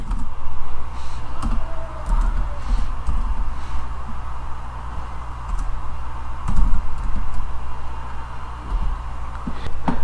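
Typing on a computer keyboard while building a web page, soft close key clicks tapping in irregular bursts over a steady low hum of room noise.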